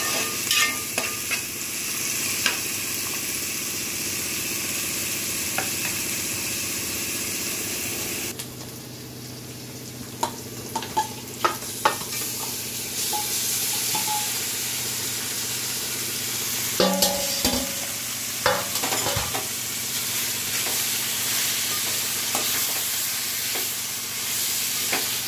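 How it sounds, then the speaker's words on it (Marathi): Onions sautéed and stirred in a pan for a Marathi home-style mutton meal, with steady sizzling and frying plus repeated scraping, clinking stir strokes throughout, close up and alone. "कांदे चांगला तर परतून घेते।"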